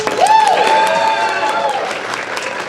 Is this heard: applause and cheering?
yes